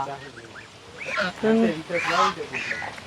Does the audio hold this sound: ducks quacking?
yes